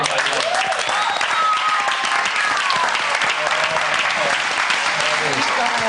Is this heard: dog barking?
no